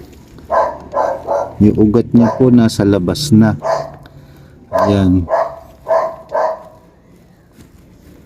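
A dog barks repeatedly in short bursts near a garden, the barks mixed in with a person speaking close by.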